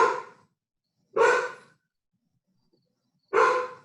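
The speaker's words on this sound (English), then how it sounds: "That's my dog." A pet dog barking at home during a conservation commission meeting call, three separate sharp barks spaced a second or two apart, fairly close, with silence between and no talk.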